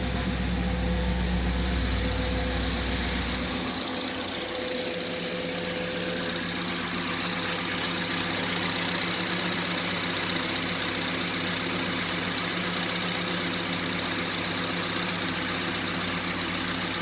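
A car engine idles steadily, up close, after its A500 (42RH) transmission rebuild. A deeper low throb drops away a few seconds in, leaving an even hum and a faint high whine.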